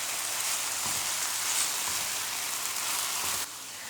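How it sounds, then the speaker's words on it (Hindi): Cabbage and onion fry in a pan with a steady, close, crackling sizzle, and a few faint stirring knocks come through before the sizzle drops a little near the end. "2 से 3 मिनट हमने गोभी और प्याज को भी फ्राई कर लिया।"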